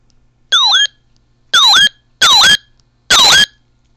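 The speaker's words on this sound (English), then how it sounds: "Wow, that's a cool alarm." A RadioShack 12-993 weather radio sounds its alarm: four loud, close, warbling electronic tones, each about a third of a second long, separated by short silences.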